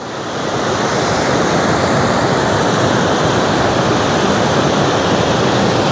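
Water pours steadily at a waterfall in Albania, a loud, dense, unbroken roar close by that swells in over the first half second and holds constant.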